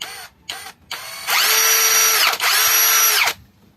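A Lucid LX60 cordless impact drill revs in a few short bursts, then runs in a loud, sustained whine, briefly dipping before spinning down.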